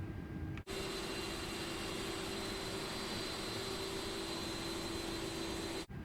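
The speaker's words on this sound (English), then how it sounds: "Cockpit to ground, we have a good engine start." An Airbus A330 jet engine runs in Microsoft Flight Simulator after engine start, giving a steady, even roar with a constant tonal whine, unbroken for several seconds and free of talk apart from two short dropouts.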